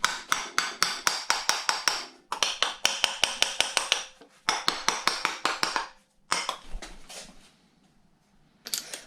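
A mallet strikes aluminium parts during the complete teardown of an ACAV armoured vehicle, loud sharp metallic blows in rapid runs of regular strikes separated by short pauses.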